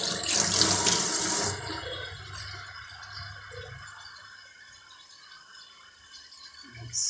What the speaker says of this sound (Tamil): அப்படியே போய் கை வாஷ் பண்ணிடலாங்க.